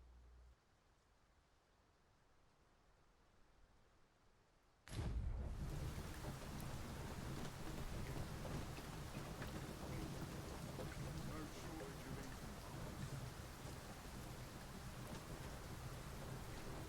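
Heavy rain and rolling thunder of a storm in the video game Dragon's Dogma 2, starting abruptly after a few seconds of quiet ambience and then pouring steadily and loudly to the end.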